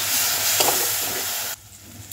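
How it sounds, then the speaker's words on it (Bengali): Spice masala for a vegetable biryani frying and being stirred in a pan, giving a steady close sizzle with scraping stir strokes that cuts off sharply near the end, leaving a quieter hiss. "দিয়ে মশলাটা ভালো করে কষে নেব।"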